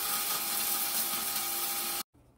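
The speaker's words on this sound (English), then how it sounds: "Grind the beans for approximately 20 seconds, or when it sounds like they are ground wet." A coffee grinder grinding beans gives a steady, loud mechanical whirring grind for about two seconds, then cuts off abruptly, leaving a faint hum.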